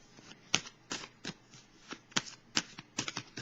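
Tarot cards shuffled quietly and close by, in a rhythmic series of soft snapping riffles and slides with short pauses between them. No talk.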